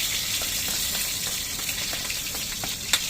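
Garlic and onion sizzling steadily in hot oil for caldereta, a loud, continuous close-up fry with faint stirring ticks throughout.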